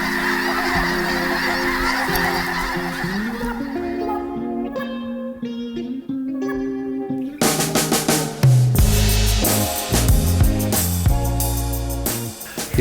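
A large flock of snow geese honks in a dense, continuous clamor during a waterfowl hunt, loud and close throughout, with the chorus swelling and growing busier partway through.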